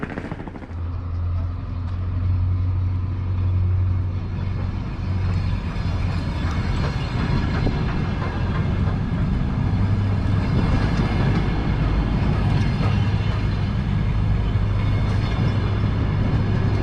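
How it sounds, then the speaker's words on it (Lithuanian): A train runs along a Lithuanian railway toward Turmantas. Its steady, loud rumble with a low droning hum carries unbroken for the whole stretch, with no voices. "Traukinys važiuoja toliau į Turmantą."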